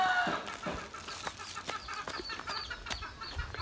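Chickens clucking outdoors with short, scattered calls over a faint background hiss, moderately distant and fairly quiet.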